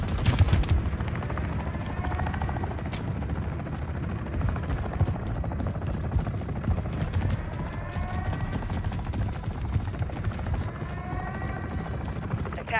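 An attack helicopter in a video game drones steadily throughout, a dense, continuous rotor-like roar with scattered sharp bursts that could be gunfire layered on top.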